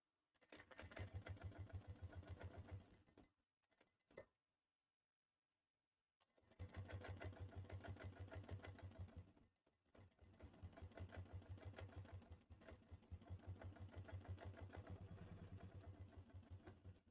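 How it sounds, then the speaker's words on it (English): A sewing machine stitches through bulky foam and vinyl tote fabric in close, rapid rhythmic bursts, stopping twice briefly before running steadily again. "just take your time when you're sewing"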